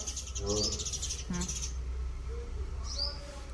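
Sparrows and their young chirp repeatedly at close range, bright high tweets in short bursts over a steady low background hum.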